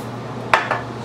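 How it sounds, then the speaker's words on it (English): Silicone spray aimed at pinball machine parts in a short burst, with a second softer burst after a brief gap, close up over a low steady hum. "I'm going to spray a little bit in here."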